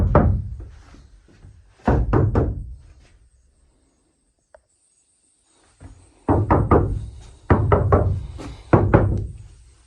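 Close, hollow knocks on a van's body panel, struck in quick clusters of three or four taps, with a quiet pause midway.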